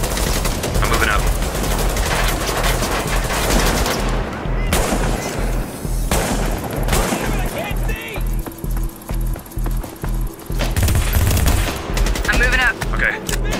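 Dense automatic and single-shot gunfire from a team firefight in Tom Clancy's The Division, loud and continuous with rapid bursts throughout, overlapping game effects while players talk over the shooting.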